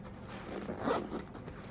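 The zipper on the front zip pocket of a designer purse is pulled open in one quick, close, raspy zip, soft and alone against quiet room noise.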